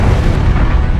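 A bomb explosion sound effect gives a loud, deep boom with a dense low-end rumble that fills the whole second.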